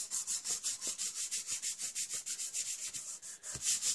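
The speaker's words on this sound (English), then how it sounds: "I'm going to turn this over and rub it down." An embossed paper card being rubbed down by hand, giving a steady run of soft, rhythmic scratchy strokes at close range, roughly three to four per second, with no talk.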